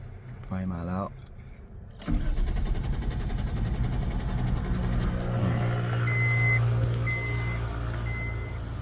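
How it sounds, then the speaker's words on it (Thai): Keys jingle briefly, then the starter of a Ford Ranger with a 1JZ-GTE engine and a new battery cranks continuously without it catching, while repeated electronic chimes beep in the background. "เครื่องหมุนนะ แต่ไม่จุดระเบิดเลย"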